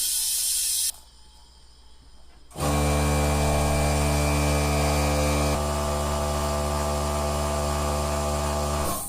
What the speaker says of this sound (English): And eventually the compressor will kick in.